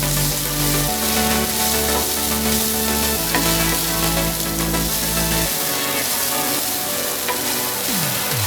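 Poha being stirred and fried in a pan, a continuous loud sizzle with repeated stirring scrapes throughout and no talking.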